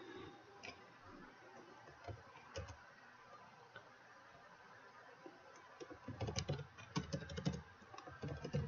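Quiet clicking of a computer keyboard as code is typed for a Node.js project, irregular soft keystrokes that grow busier and louder toward the end, with no talking.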